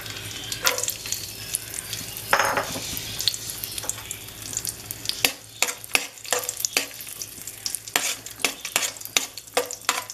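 Raisins fry in ghee for carrot halwa while a spoon stirs the pan: repeated sharp scraping clicks and strokes over a soft, steady sizzle, fairly quiet, with no voices.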